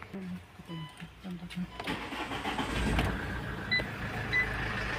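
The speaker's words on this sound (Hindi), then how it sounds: "अब स्टार्ट कर देखते हैं।" A Mahindra XUV 500 with a check-engine fault starts up after its air filter is refitted: brief cranking gives way to a steady idle heard close by, with voices talking over the start.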